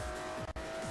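A race car in Forza Motorsport 4 brakes hard, its engine droning loudly with falling downshift sweeps and a brief break in the sound midway through one short burst.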